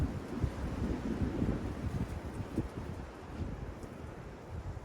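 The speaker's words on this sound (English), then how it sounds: "I hope wind's picking up." Wind gusting around a Pomoly rhombus tarp tent at a hammock hot-tent campsite, a low continuous rumble and buffeting roar that rises and eases, with no one talking.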